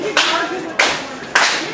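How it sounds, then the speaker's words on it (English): A crowd at a CWA live wrestling event clapping in unison, three loud rhythmic bursts of applause about half a second apart. "Osiris getting the crowd fired up"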